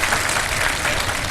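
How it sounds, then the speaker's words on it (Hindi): Studio audience applause during a Ramadan iftar television broadcast, a dense, steady wash of many hands clapping at once, loud and continuous throughout with no voices over it. "इसमें तो तालियां होनी चाहिए यार।"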